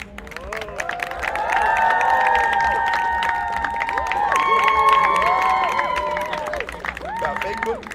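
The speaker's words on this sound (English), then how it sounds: "The crowd's gonna go crazy." A live show audience in Quebec City cheers and claps as someone is welcomed to the stage, a loud sustained crowd roar with whoops and shouts, with a host talking over it.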